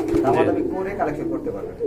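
A light-colored male pigeon coos in a short, throaty burst, close and clear, while someone speaks over it.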